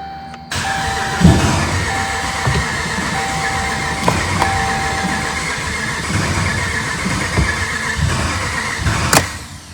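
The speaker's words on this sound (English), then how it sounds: "I'm just gonna get in there and crank it, let it turn over, build oil pressure." A Ram pickup's Hemi V8 cranks steadily with its injectors unplugged, the starter turning it over in a loud, continuous churning drone that runs for several seconds without catching.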